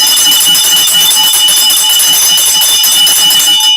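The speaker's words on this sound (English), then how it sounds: "when you ring the bell, it sounds familiar" A bell rung by a show host rings continuously and loudly, a bright metallic clangor with sustained high ringing tones and a rapid, even rattle throughout.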